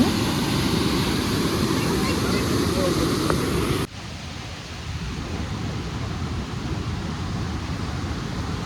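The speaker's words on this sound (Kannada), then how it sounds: "ನೀರು ಹರಿಯೋ ಸೌಂಡು ನಮಗೆ ದೂರದಲ್ಲೇ ಕೇಳಿಸುತ್ತೆ" Water rushes steadily at Kaigal Falls, a dense continuous roar that drops slightly in level partway through and carries on unbroken.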